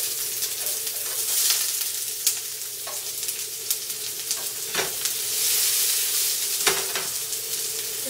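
Thinly sliced Vidalia onion hits a hot pan with canola oil and sizzles steadily up close, with a few sharp utensil clacks and stirring bursts over the continuous frying hiss.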